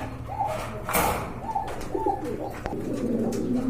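Pigeons coo repeatedly and fairly close by at a pigeon sale, their soft rolling calls overlapping with some low background noise and an occasional thump.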